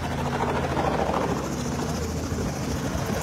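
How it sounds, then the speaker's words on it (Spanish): A helicopter running close by before boarding, its rotor and engine making a steady, dense, loud thrum that fills the whole moment without pause. "Se llegó la hora de subir al helicóptero."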